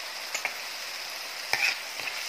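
A steady sizzle of canned-fish fried rice being stir-fried, with a spatula tossing and scraping the rice in a wok a few times over continuous crackling heat.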